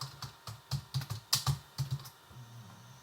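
A password is typed on a computer keyboard in a quick, irregular run of about a dozen crisp key clicks, close and clear, ending with a slightly longer press.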